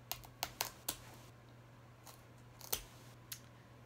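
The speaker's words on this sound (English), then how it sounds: "And then I'm gonna cut this stem a little bit more down" Scissors or shears snip through the fleshy stem of a Graptoveria Fred Ives succulent in a quiet room, with a quick run of crisp, close cuts, a pause, then a few more isolated snips.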